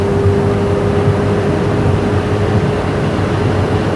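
A 1985 Mazda RX-7 cruises at about 110 mph on a road test, its steady engine drone blended with dense rushing wind noise, loud and constant with no speech.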